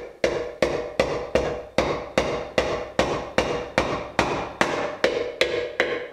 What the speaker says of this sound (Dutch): En vervolgens sla ik er dan met het hamer een gaatje in.